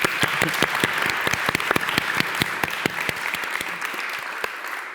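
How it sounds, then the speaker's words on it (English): Audience in a hall claps to thank the event hosts, a lively round of many hands with sharp, distinct claps standing out over the dense patter, close and loud, tapering slightly at the end. "So thank you, Bishopsgate. We're going to clap."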